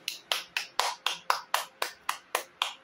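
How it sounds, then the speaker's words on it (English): A worship congregation claps in unison, giving about a dozen crisp, evenly spaced claps in a steady rhythm, moderately quiet and without talking. "Can we give the Lord our clap offering?"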